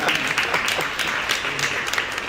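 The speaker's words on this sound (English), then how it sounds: "Please, a big applause." A live audience at a design night event bursts into dense, steady applause, loud and close, with many hands clapping continuously throughout.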